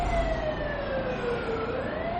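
A wailing siren holds a steady, slowly sliding tone over a constant rumble of traffic.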